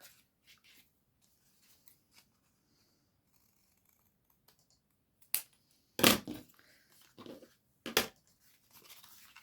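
Scissors cut paper for a journal, making a few short crisp snips and crunches close up after a quiet stretch, with soft handling sounds between the cuts.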